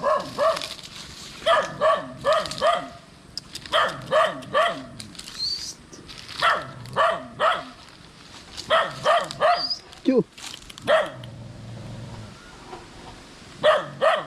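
A fierce mother dog guarding her four puppies barks in repeated short bursts, loud and close, while a person talks nearby.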